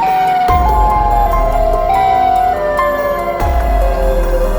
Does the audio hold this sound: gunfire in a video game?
no